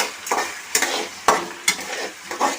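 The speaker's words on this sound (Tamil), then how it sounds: "இப்போ பச்சை மிளகாய், இஞ்சி, கருவேப்பிலை நல்லா வெங்காயம் வதங்கணுமா." Onions, green chili, ginger and curry leaves sautéing in hot oil with peanuts, with a bright continuous sizzle broken by several loud, rhythmic spatula scrapes and clacks close up. No one speaks.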